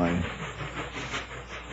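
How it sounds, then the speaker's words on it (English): Train sound effect played on a 1966 radio broadcast, a brief hissing, steamy rush with rumbling rail noise, fairly loud and steady after a short tone at the start. "bring me a little more of that train music, please"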